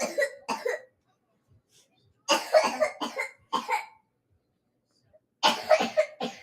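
A person coughs in short, harsh bursts, two quick coughs, then a longer fit of several coughs after a pause, and another cluster at the end, close to the listener with silence between.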